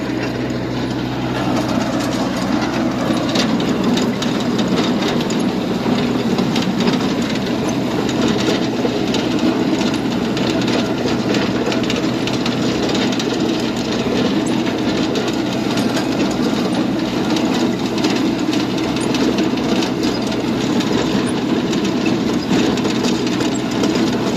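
A potato-digging machine works through a field, giving a steady, loud mechanical rumble with continuous rattling clatter for the whole stretch and no talk over it.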